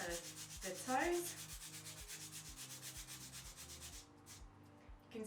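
A foot file rubs back and forth over the sole and toes of a foot in steady, repeated strokes, close and fairly quiet, with a dry scraping texture and a brief pause near the end.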